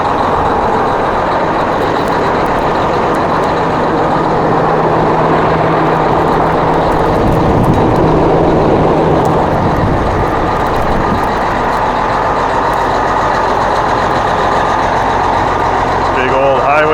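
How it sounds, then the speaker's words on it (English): A heavy diesel Peterbilt truck engine rumbles steadily nearby at an auction, its low drone continuous throughout with a brief swell midway. "That sounds like a proper truck."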